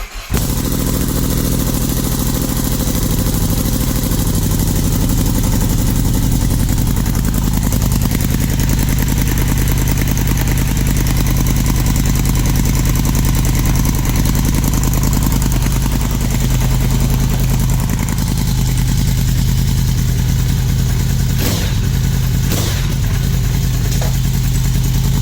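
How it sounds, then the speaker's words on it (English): A Yamaha VMAX 1700 motorcycle fitted with an Akrapovic exhaust runs loud and close, holding a deep, steady idle for the whole stretch, with a few brief throttle blips near the end. "Mr. Putin's Akrapovic muffler and sound check."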